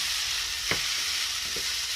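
Shrimp fried rice being stir-fried, a quiet steady sizzle with two soft scraping stirs of the utensil, close but faint.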